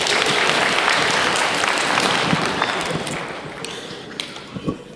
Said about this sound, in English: Everyone's clapping the same rhythm